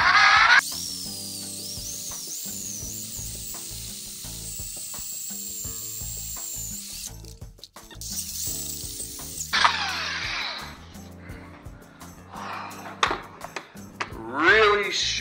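A hand drill grinding into oiled metal for a Suzuki SFV650 Gladius motorcycle muffler, with a sustained high-pitched whine, pausing briefly, then resuming amid scattered clanks and mechanical noise.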